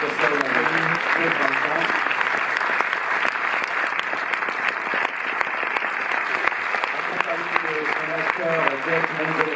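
Audience applause for guests at a cinema premiere at the Cinémathèque in Paris, steady dense clapping throughout with a voice speaking over it at the start and end.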